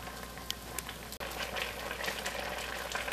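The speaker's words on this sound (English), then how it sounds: "I thought I'd show you kind of bring them up to a boil" Apples for apple sauce boil in a pot with a steady bubbling hiss and a few small pops, close and fairly quiet.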